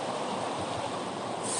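A cold, low winter river flows in a steady, close rushing hiss that stays even throughout, with no voices.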